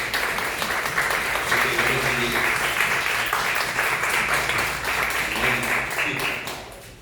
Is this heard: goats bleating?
no